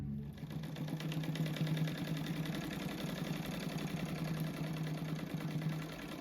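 A sewing machine stitches cushion fabric in one steady, fast mechanical whirr with a rapid needle rhythm, running continuously at moderate volume for about six seconds without speech.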